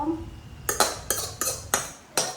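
A metal spoon clinks against a pot while ghoti gorom snack is being mixed with spices, with six sharp, bright taps at steady intervals, close and clear over a quiet background.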